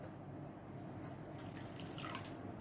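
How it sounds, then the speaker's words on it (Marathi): Water trickles and splashes continuously into a pan of paneer curry, a steady pouring stream with a brighter surge toward the end. "यात मी अगदी थोडंसं पाणी ओतणार आहे."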